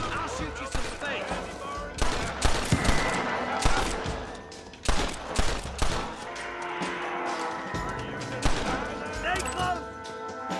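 A Red Dead Redemption shootout crackles with repeated gunshots in irregular bursts, some near and sharp and others farther off, while characters talk over the fire.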